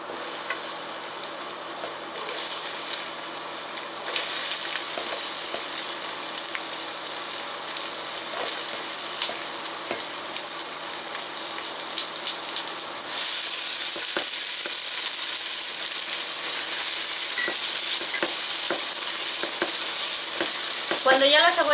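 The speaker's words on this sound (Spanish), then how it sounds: "Enseguida le vamos a poner la cebolla." Onion fries in a pan for vegan mushroom sopes. A loud, dense sizzle runs continuously, jumping louder when the onion goes in, with occasional stirring clicks on top.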